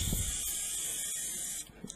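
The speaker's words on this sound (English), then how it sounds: "I'm just going to give it a little bit of a blowback" An airbrush loaded with black paint is blown back to mix it, producing a steady close hissing spray that cuts off near the end, followed by small faint clicks.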